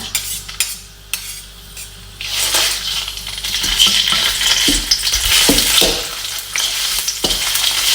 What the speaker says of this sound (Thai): เราก็เอาพริกแกงแดงนะคะ ที่เราตำกับขิงเมื่อกี้นะคะ มาผัดให้หอมก่อนเลยนะคะ